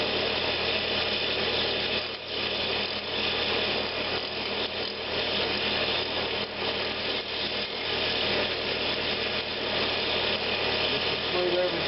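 Wood is shear scraped on a lathe while a winged box is turned, giving a steady, loud, rushing scrape with a continuous spinning hum underneath and no break.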